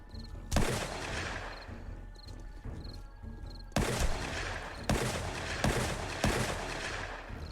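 Gunfire in a zombie survival shooter during a horde night, with sharp broadband shots: a single report early, then a loud cluster of bursts in the second half, over steady game background noise.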